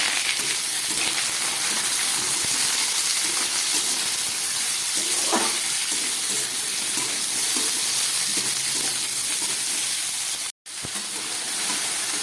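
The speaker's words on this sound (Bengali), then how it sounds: "এরপরে দিয়ে দিচ্ছি আমি আলুটা।" Diced potatoes and carrots fry in an oiled pan for a vegetable dish, giving a steady close sizzle and hiss with light stirring clatter and a brief cut near the end.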